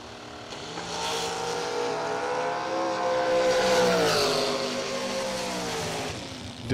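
A race car engine at an auto racing event revs to about 8,000 RPM, a loud sustained tone that climbs and holds before fading slightly as it passes, with no talking.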